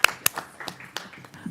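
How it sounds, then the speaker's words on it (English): A few attendees at a board of education meeting clap sparsely, giving a handful of distinct, uneven hand claps, close and crisp, that quickly trail off with faint room murmur. "that deserves a clap."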